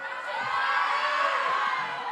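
A crowd cheers and whoops in a broad, sustained roar through a church service led by a pastor, loud and continuous with no clear breaks.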